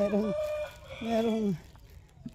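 A farm hen with chicks giving a few drawn-out clucking calls close by, followed by quieter background sounds.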